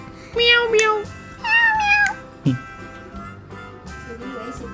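A person imitates a cat's meow, giving two drawn-out, pitch-gliding mews followed by a short lower yelp, loud and close against faint background sound.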